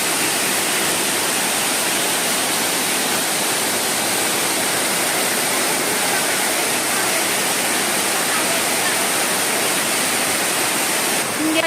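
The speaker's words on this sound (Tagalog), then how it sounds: "Guys, so ang laki ng falls." Broad steady rush of a large waterfall at Little Hawaii, a dense constant roar of falling water filling the whole span, close and uninterrupted with no voices.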